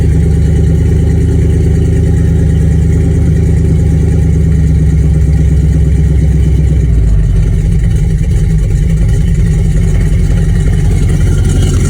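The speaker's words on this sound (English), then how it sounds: "It's going to be a low idler until it like warms up" A truck engine idles low and steady close by while still cold, a constant rumbling drone with a slight shift in tone partway through.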